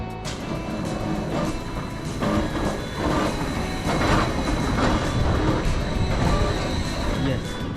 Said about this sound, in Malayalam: ഗൈസ്, ഇതാ നമ്മുടെ ട്രെയിൻ വരുന്നു.